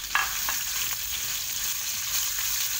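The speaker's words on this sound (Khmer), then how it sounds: "នេះយើងចាក់សាច់ជ្រូកបងប្អូន" Minced pork sizzles and fries in a pan while being stirred for mee sour, a steady close crackle with a few scraping stir strokes and no talking.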